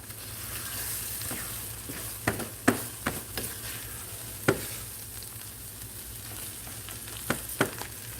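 Eggs sizzle and fry steadily in a non-stick pan while a utensil scrapes and taps against it in several sharp irregular knocks, close and moderately loud.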